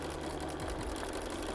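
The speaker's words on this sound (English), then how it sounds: "I'm gonna back stitch again. Just to secure it." A sewing machine back stitches a seam through a quilted penguin play mat with batting, running as a close, steady mechanical whir for the whole moment.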